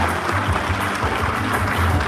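Audience applause at a Christmas concert show in a hall, a continuous wash of clapping mixed with a low hum and background murmur.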